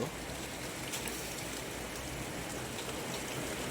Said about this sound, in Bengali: এই যে দেখতে পাচ্ছ প্রচুর পরিমাণ বৃষ্টি হচ্ছে বাইরে